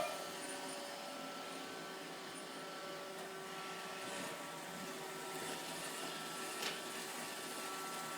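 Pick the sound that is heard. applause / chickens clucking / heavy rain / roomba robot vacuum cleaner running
roomba robot vacuum cleaner running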